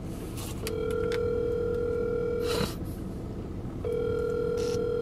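A phone call's ringing tone sounds twice, each a long steady electronic burr separated by a pause, fairly clear over a quiet background with no talk.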